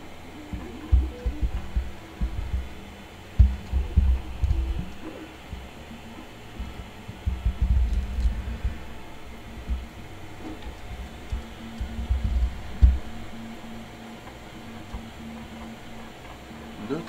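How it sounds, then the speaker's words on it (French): An Anet ET4 3D printer starts its first print, its stepper motors giving soft irregular low thumps and whirring bursts over a steady fan hum and a faint electrical tone, close and fairly quiet, with no speech. "on va pouvoir allumer notre imprimante pour lancer cette première impression"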